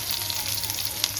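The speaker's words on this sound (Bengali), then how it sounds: "তেলের মধ্যে পেঁয়াজটা দিয়ে দিলাম।" Onions sizzling as they fry in hot oil for a Bengali rohu fish curry, a brief, bright, steady crackle with a small pop near the end, heard alone and close.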